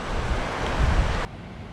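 A waterfall and river on Dartmoor roar in a dense, loud, continuous rush of water with wind buffeting the microphone, cutting off abruptly near the end.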